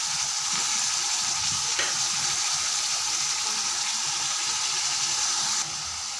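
Fish fries in a pan with ginger-garlic paste, giving a steady, close hiss and sizzle of hot oil that holds evenly throughout, with a faint clatter of stirring.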